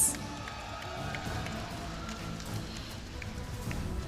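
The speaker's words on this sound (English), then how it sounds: "Everybody, let's give them a big round of applause." An esports playoff crowd for a Pokémon league match applauds and cheers as a third-place team is honored, sounding as a quiet, distant, continuous wash of clapping and crowd noise.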